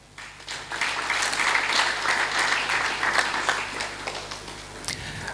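An audience bursts into sustained applause, a dense wash of many hands clapping steadily for about five seconds at moderate volume, with no talk over it.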